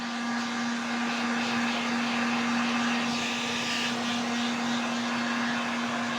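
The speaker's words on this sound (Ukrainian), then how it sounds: "Беремо фен будівельний." A steady, loud blowing roar with a constant hum runs unbroken throughout, a heat gun on its second speed running close by, burning off threads on shoes.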